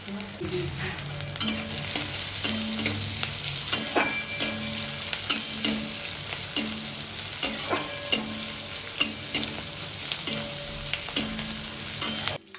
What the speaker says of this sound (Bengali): পেঁয়াজটা ভাজতে ভাজতে যখন না হালকা বাদামি রং হয়ে যাবে তখনই কিন্তু এই পেঁয়াজ আর কাজুটাকে মা নামিয়ে নেবে